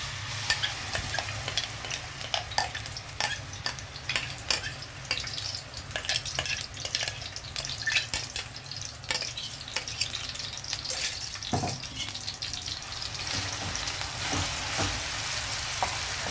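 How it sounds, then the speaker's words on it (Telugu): Onion paste frying in hot oil for an Andhra-style fish curry with tender tamarind leaves, a steady close sizzle with frequent stirring scrapes throughout. "ఇప్పుడు ఆయిల్ హీట్ అయ్యాక మనం ఇది ఉల్లిపాయ పేస్ట్ వేపుదామండి"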